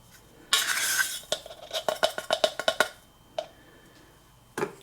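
Ground coffee scooped with a metal spoon into a Cuisinart coffeemaker filter, a burst of rustling followed by a rapid run of close clinks and taps, then two isolated knocks after a pause.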